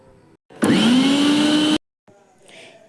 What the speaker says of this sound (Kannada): ಫ್ರೈ ಮಾಡಿರೋ ಮಸಾಲೆ ಪದಾರ್ಥನ ಮಿಕ್ಸಿ ಮಾಡ್ಕೋಬೇಕು